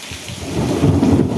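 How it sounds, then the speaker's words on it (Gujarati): Heavy rain pours in Vejalka village, Ranpur taluka, Botad district, as thunder rolls in a loud, low rumble that swells over the rain's constant patter, with no voices. "કાં કેટલા કડાકા થાય છે।"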